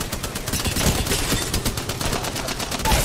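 Rapid automatic gunfire from the Apex Legends battle royale shooter rattles in a dense, continuous stream, loud and close, with no talking.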